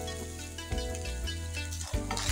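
Oil sizzles in a pan while spaghetti and beef are stir-fried, a steady broadband hiss with a few louder bursts as food is stirred, close and without talk.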